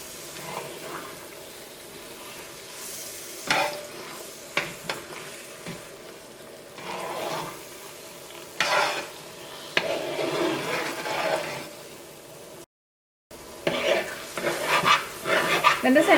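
Thick Kerala banana halwa (ethapazham) being stirred in ghee in a pan, intermittent scraping and sticky stirring strokes with soft sizzle, separated by quieter gaps and a brief silent break.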